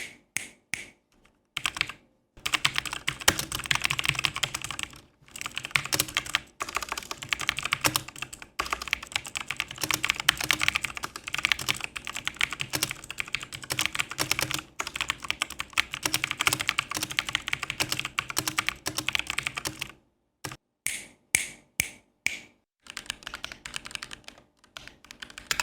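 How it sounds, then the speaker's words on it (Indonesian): Steady bursts of typing on an Appolo 61 Lightyear Edition mechanical keyboard, dense clacking keystrokes close up with brief pauses between runs and no voices. "Kalau pada video review keyboard sepertinya tidak afdal kalau tidak ada video typing testnya kan."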